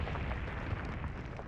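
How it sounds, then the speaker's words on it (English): A heavy, rumbling explosion from the Switch puzzle game Escape Trick: 35 Fateful Enigmas, a dense, loud roar that fills the whole moment without a break. "and now big explosion, and now you're dead"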